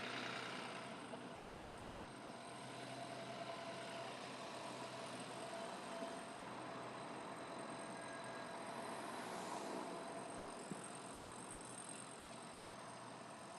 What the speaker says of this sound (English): we got traffic there about to come on up Florida Avenue